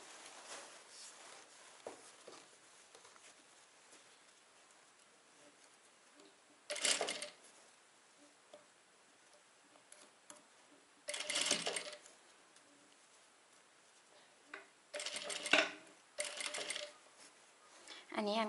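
A sewing machine stitches lace onto a skirt to lengthen it, running in several short bursts of rapid mechanical whirring separated by quieter pauses, heard fairly close and alone.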